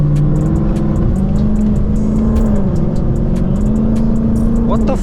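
A Ford Mustang GT with a 10-speed transmission revs loudly and steadily up close, its engine tone climbing and dipping while a person talks over it.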